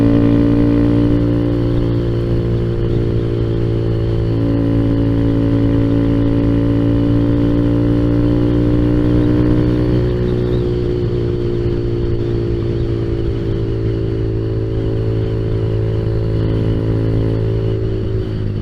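Kawasaki Z125 motorcycle engine heard while riding, a loud, close, continuous hum whose pitch rises and then settles as the small bike holds speed, with no talking.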